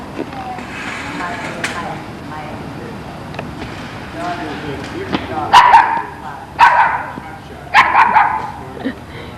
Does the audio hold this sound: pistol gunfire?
no